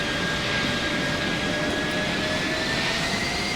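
Superjet 100 jet engines roar steadily in Flight Simulator X, a loud continuous turbine hum with a faint high whine running through it and no talking.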